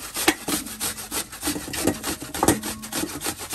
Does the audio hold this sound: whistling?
no